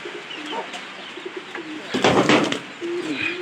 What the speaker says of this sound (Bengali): এটা যেমনি হোক একটু ভয় পাইছে কবুতরটা।